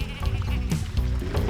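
A sheep bleats in a Nickelodeon video game, a loud, wavering call that fills the moment, set against steady game music.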